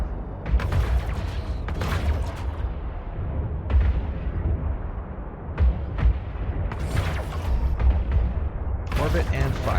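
Spaceship weapons fire in rapid, repeated bursts during EVE Online space combat, loud booming volleys and crackling blasts stacked over a steady low rumble, with a voice speaking over the action.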